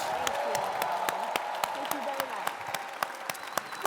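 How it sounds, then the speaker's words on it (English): Audience applause at a gala fireside chat for Laura Coates, a steady dense patter of clapping from a crowd with sharp louder claps scattered throughout, sustained for the whole stretch. "a round of applause for Laura Coates"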